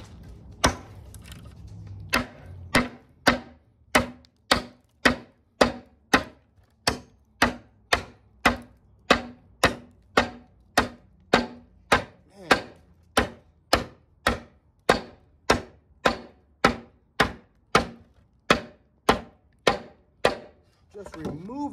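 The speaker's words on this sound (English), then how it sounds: "I'm gonna chop through it for you guys and see how fast I can get through this. And this is oak" A Wenger knife chops through oak from an old headboard in a long run of about thirty sharp, evenly spaced woody strikes, each a loud crisp thwack with a short decay, close up and steady.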